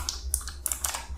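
Quick bursts of keystrokes on a computer keyboard, about a dozen crisp close taps in an irregular rhythm with no talking.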